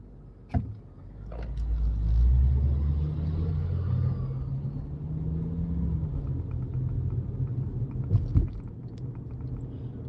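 Car interior while driving, a low steady road and engine rumble heard from inside the cabin, with a couple of brief knocks and clicks, fairly close and without talk.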